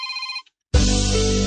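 A cell phone rings with a short electronic tone, breaks off into a moment of silence, then a louder, noisy burst follows.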